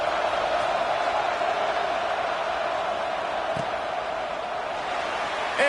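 A large stadium crowd in the NCAA 26 college football video game gives off a continuous, even roar, broad and distant, holding steady with no distinct cheers or announcer voice.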